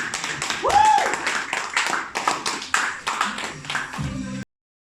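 An audience applauding at a 2024 kick-off event gives several seconds of dense, uneven clapping, with voices talking over it and a brief whistle-like tone early on, before the sound cuts off abruptly.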